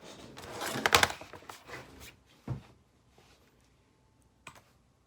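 Typing on a computer keyboard, heard as a brief, dense burst of close key clicks followed by a few scattered taps and a soft thump, in a quiet room with no talk.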